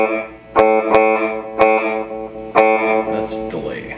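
A guitar played through an amplifier with its delay effect switched on: a few loud struck chords ring out with sustained, repeating tails that trail and smear together, closing on a brighter, noisier burst.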